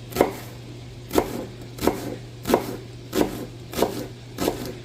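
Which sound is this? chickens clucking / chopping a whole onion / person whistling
chopping a whole onion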